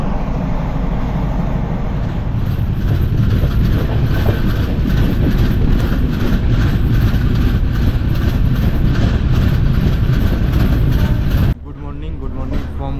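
The 12887 Shalimar Puri SF Express runs in Odisha near Khurda Road, with a loud, steady rumble and rattle of wheels and carriage that holds throughout, then drops abruptly near the end.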